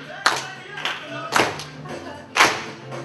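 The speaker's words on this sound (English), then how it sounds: "We call it soul clap." An audience at a TED talk claps together in a soul clap to a James Brown beat, a few loud, sharp group claps spaced about half a second to a second apart.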